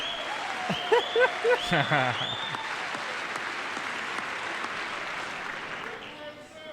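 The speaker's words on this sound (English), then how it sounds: "Surely you have to clap for this kid." A crowd applauds loudly and continuously, with a few whoops and cheers at the start before the clapping settles into a steady roar.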